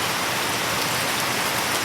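Steady tropical rain pours down on a Saturday morning, a dense, even hiss of drops hitting surfaces close by, continuous and unbroken with no voices.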